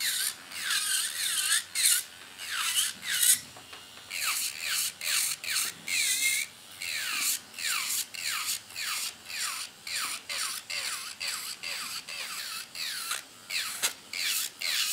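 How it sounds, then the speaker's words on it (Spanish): An electric nail file drill grinds on acrylic nails, a faint high whirring buzz in short repeated strokes with a steady rhythm throughout. "Es que se puede limar la uña natural, que no pasa nada."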